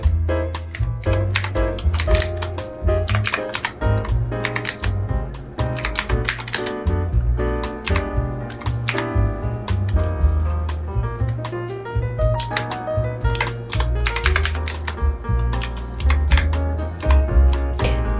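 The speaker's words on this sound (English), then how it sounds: "The keyboard is so clicky and noisy. I love this sound" Typing on an Evo Fox Katana-X mechanical gaming keyboard, with rapid, loud clicky keystrokes in quick irregular bursts, close up and continuous with no talk over them.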